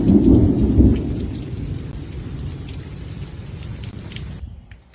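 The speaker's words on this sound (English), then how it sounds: "in Missouri, hail hammered the roof like thousands of tiny hammers." Hail and heavy rain hammer a roof during a Missouri thunderstorm, opening with a loud rumble that eases into a dense, steady drumming before cutting off abruptly.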